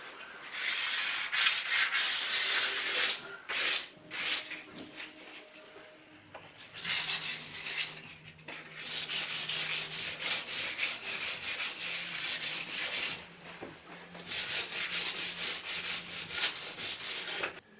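Light hand sanding of painted woodwork between coats, steady raspy rubbing strokes in long bursts separated by short pauses, close and fairly loud.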